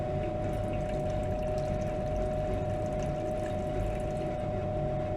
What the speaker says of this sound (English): I'm gonna pour it off.